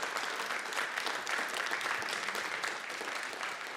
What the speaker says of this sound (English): So just a massive round of applause